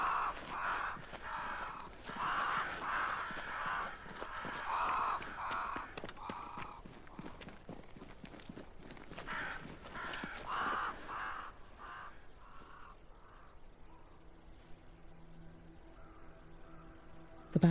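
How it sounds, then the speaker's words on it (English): Crows caw repeatedly in the video game Banishers: Ghosts of New Eden, a flock of harsh, overlapping calls ringing out at mid distance for about ten seconds before fading into quieter ambience. "Crows. They flock to that great tree up there."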